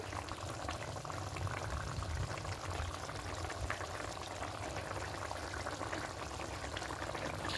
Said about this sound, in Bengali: এবার একটু ফুটতে দেবো